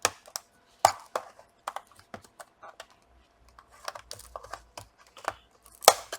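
Sharp tool prying at a glued-down keyboard on a Lenovo V570 laptop, with old adhesive holding it in place: a scattered run of close, sharp clicks, snaps and crinkly tearing bursts, a few louder cracks standing out.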